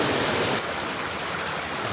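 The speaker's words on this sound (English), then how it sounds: "Wow, this creek is something." A mountain creek rushes steadily in loud, close broadband flow with no pauses, heard alone without speech during tenkara fishing in Northern California.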